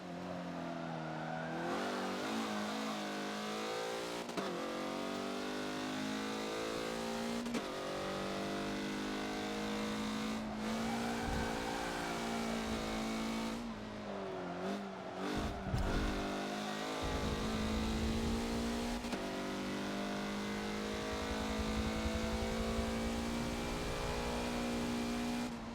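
Race car engine in the Forza video game at Suzuka's west track, revving and accelerating out of the hairpin with throttle stabs and tire spin, a continuous loud engine tone rising and falling, with no talking.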